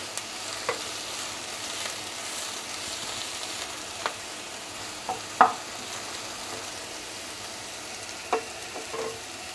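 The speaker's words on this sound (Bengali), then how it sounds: "পেঁয়াজটা একটু মিডিয়াম থেকে কম আঁচে ভাজতে হবে, না হয় পেঁয়াজটা ভাজা না হয়ে জ্বলে যাবে।" Onions frying on medium-low heat for a dried fish chutney, a soft continuous sizzle with scattered clicks and scrapes from stirring and one sharper knock midway, no voices.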